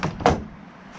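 A camper van's sliding door is worked by hand, giving two quick, close mechanical clunks of the door and latch that fade into a soft rattle.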